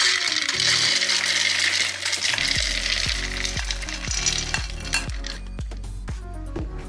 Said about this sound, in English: Take your machine, and now we're gonna have to add our roasted